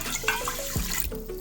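Water pours into an Instant Pot holding rice: a short, close splashing pour lasting about a second, then a brief trickle.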